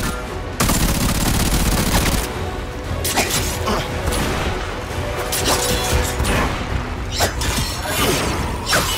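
Enemy gunfire in the Warframe video game: dense, continuous bursts of shots and smashing impacts, loud and close, with sharp spikes of rapid fire throughout and a brief clank of mechanisms.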